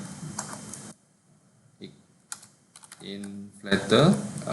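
Keystrokes on a computer keyboard while entering Java code for a layout inflater, in short bursts of clicks separated by pauses, with some speech-like sound near the end.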